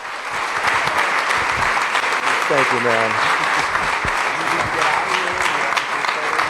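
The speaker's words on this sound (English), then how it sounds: "another round of applause for Mr." Sustained audience applause at a triathlon club meeting honouring a professional triathlete, steady and full throughout, with someone briefly speaking over the clapping partway through.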